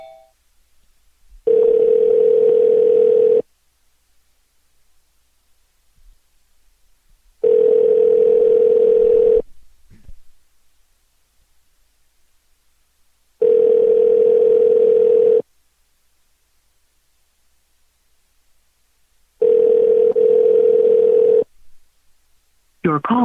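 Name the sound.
telephone dial tone while redialing a call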